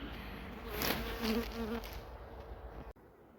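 Honeybees hum in a steady, close swarm as a wintered hive is opened at the start of the season, the drone swelling briefly before a sharp knock cuts it quieter near the end.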